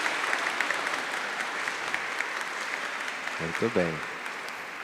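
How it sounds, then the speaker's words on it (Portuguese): An audience applauds steadily to welcome a lecturer at a talk on the architectural and artistic elements of a Matriz church; a voice briefly speaks over the clapping near the end. "Vamos saudá-lo com as nossas palmas."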